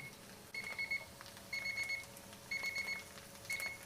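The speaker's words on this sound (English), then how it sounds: "So there's our alarm after 5 minutes." A kitchen timer beeps in four evenly spaced bursts of rapid high-pitched chirps, fairly quiet over a faint room hum.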